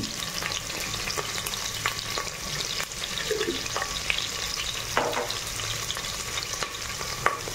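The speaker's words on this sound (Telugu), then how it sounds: "ఆయిల్ వేసుకున్న తర్వాత ఇప్పుడు మనం మసాలా దినుసులు వేసుకుంటాము. బిర్యానీ ఆకు వేసుకోవాలి." Whole spices and a bay leaf fry in hot oil in a cooker, giving a continuous close sizzle with scattered small crackles and occasional stirring clicks.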